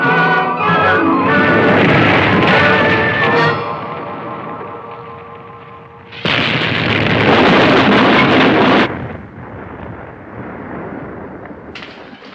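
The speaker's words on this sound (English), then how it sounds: "Those chunks of ice are coming right at us." Chunks of ice batter the hull of a submarine in a science fiction film: heavy rumbling impacts and crashing roar, loud and sustained, with a sharp renewed surge midway, then a lower rumble.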